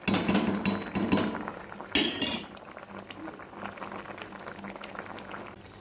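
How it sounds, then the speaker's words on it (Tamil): Thick drumstick kara kuzhambu curry bubbling and simmering in a pot, with a sharp metallic clink of a utensil partway through, then steady soft gurgling. "இன்னும் ஒரு 2 நிமிஷம் கொதிக்கிட்டோம்."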